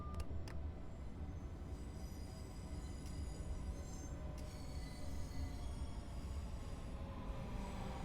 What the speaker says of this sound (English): Quite a sharp brake there because it came in a bit hot.